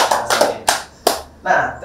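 An audience gives a few short bursts of hand clapping, each spurt starting sharply and fading, separated by brief gaps.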